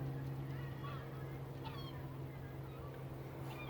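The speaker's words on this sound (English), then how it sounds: "All these birds are flying." A huge flock of geese and other birds lifting off a lake, with faint honks and calls scattered through a steady wash of wingbeats and ambient noise, under a continuous low hum.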